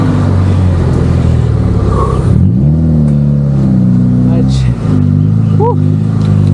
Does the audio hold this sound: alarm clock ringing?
no